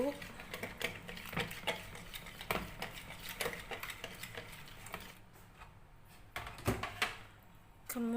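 A spoon stirs caramel cake batter of sweetened condensed milk in a bowl, scraping and clinking against the sides in a steady, irregular rhythm, close and moderately loud.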